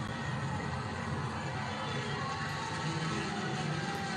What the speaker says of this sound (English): And the Pirate fans are celebrating.